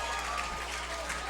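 A stadium crowd at a Mexico versus Jamaica rugby sevens third-place match cheers and applauds after a Jamaican try, a steady, broad roar of clapping and shouting with a commentator's voice running over it.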